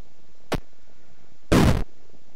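Two bomb blasts in an indie Ludum Dare video game: a short sharp pop, then a louder, fuller burst about a second later, both clean against quiet background.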